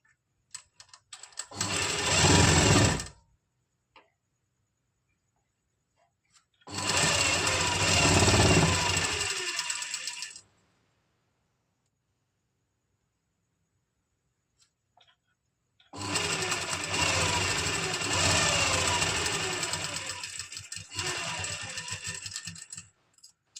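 A sewing machine stitches the lining of a party wear suit in three separate runs, a loud rapid mechanical chatter lasting from a few seconds up to about seven, with silent pauses between them.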